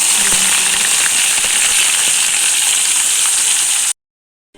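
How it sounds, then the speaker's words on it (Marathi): Bay leaf sizzles in hot oil in a kadhai while frying purée for misal pav, a loud steady hiss with fine crackles that runs close and continuous for about four seconds, then cuts to silence. "कढईत गरम तेलात तेजपत्ता टाकूया"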